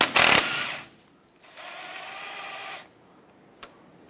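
A power tool whirs in two short bursts while backing off a sway bar end link nut on a 1994-2004 Chevrolet S10, with a sharp clatter at the start and a small click near the end.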